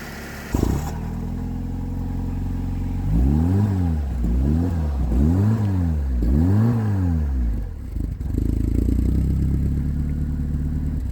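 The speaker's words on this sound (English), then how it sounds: "What I'll do now is I'll start the vehicle from the rear of the car" A Fiat Punto Mk1 60 small car engine cranks, catches and idles, then revs up and down several times in steady rising-and-falling surges before settling to a fast idle.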